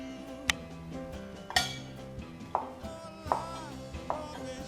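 A knife chops bell peppers on a cutting board for a sausage jambalaya, with about five sharp, separate knocks spaced roughly a second apart over steady background music.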